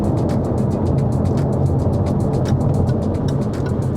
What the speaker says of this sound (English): you can hear that thunderous roar from under the bonnet